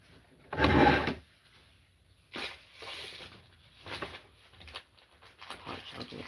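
A drawer slides open with one loud scrape, then several softer rattling bumps and shuffles follow as it is handled and pushed shut, close by in a quiet room.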